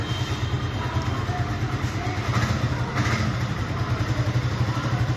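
A yellow Suzuki 155cc second-hand motorcycle engine runs steadily nearby with a rapid, even putter and mechanical clatter, staying at a constant loud level.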